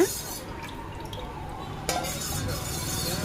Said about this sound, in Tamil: அடிக்கனமான பாத்திரமாக வச்சு நல்லா கிண்டிக்கிட்டே வாங்க